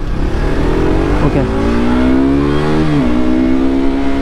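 A KTM RC 125 BS6 sports motorcycle, 2020 model, revs hard and close, its engine tone climbing steadily in two rising sweeps with a quick dip in between. One short spoken word is heard near the start.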